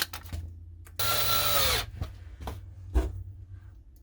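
A power drill drives screws into a camper during a mod to hold a part down tight, one steady whir of about a second standing out amid scattered clicks and knocks, close by, no voices.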